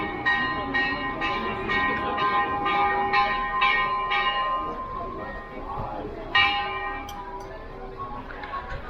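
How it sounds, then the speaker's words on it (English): A large church bell in the historic centre of Querétaro, Mexico, strikes repeatedly in a steady rhythm, each ring leaving a long ringing tail over low street rumble, with one louder strike near the end. "That's a great bell."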